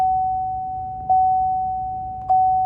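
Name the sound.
car seatbelt warning chime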